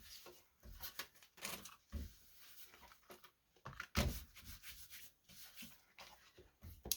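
Sandpaper rubbed over a paper stencil on junk mail, a few short, quiet, scratchy strokes in uneven bursts with pauses between them, close up and with no talking.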